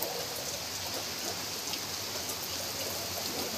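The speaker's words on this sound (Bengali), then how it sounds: "এই দেখো খুব জোরে বৃষ্টি এসে গেছে।" Heavy rain pours down in a dense, steady hiss of drops on surfaces, uniform and fairly close throughout with no voices.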